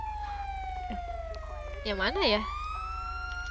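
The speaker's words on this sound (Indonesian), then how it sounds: "Nyalain sirine strobo astaga." A wailing EMS vehicle siren sweeps up and down in a GTA roleplay video game, heard steadily under a rumbling engine while people talk over it.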